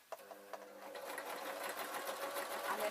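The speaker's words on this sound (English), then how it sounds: "I'm going to sew up the sewn ends first." A sewing machine stitching a pumpkin outfit starts with a couple of clicks, then runs in a quiet, steady, rapid whir of stitching.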